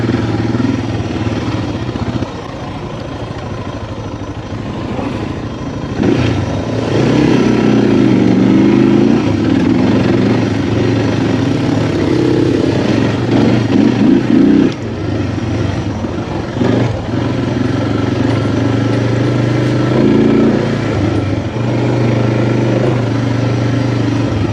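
A Suzuki DR650 dual sport motorcycle is ridden off-road, its single-cylinder engine droning loudly and steadily up close, surging into harder revving pulls over rough terrain with rattling and clatter from the bike.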